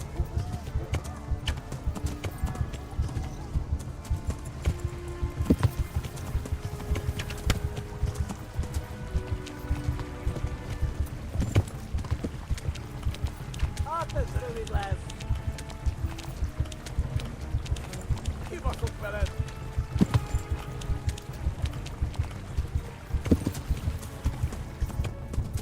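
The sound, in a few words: horses galloping in a video game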